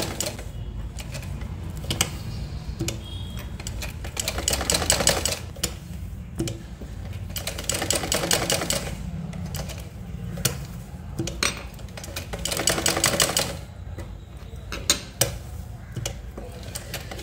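A sewing machine stitches a decorative V-shaped border during a tailoring lesson, its rapid mechanical clatter running in bursts with short pauses between passes, close and fairly steady.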